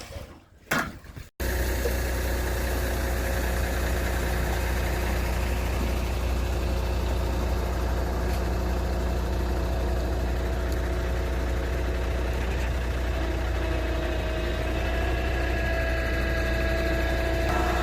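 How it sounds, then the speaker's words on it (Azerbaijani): Two concrete mixer trucks run steadily at a concrete post casting site, a loud continuous engine drone and drum rumble holding nearly unchanged after a brief quieter opening. "Hal-hazırda 2 beton qarışdırıcı mikser maşını işləyir."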